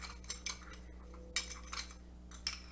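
A spoon clinks and scrapes against a small bowl while sugar and a pinch of cinnamon are stirred together. The sharp, close taps come in irregular bursts over a low background hum.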